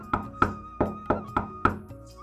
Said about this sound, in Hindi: वह उस घर का दरवाजा खटखटाती है।